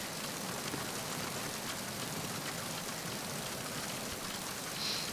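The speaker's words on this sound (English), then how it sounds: "I mean, it is raining and fucking cold out here," Steady rain falls across a game scene in Metal Gear Solid 2, a constant dense hiss that holds evenly throughout with no voices over it.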